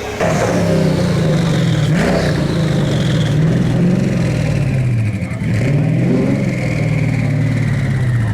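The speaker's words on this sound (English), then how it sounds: "The Zonda R has arrived." Pagani Zonda R engine running loud and close, a deep, steady rumble with rising and falling revs and a brief dip partway through, with no speech over it.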